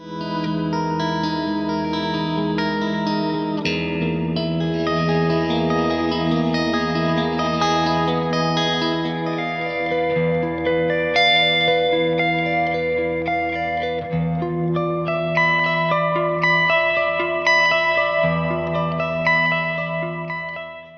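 A clean electric guitar rings out slow, sustained notes drenched in lush reverb, chords blooming and blending into a dreamy ambient wash.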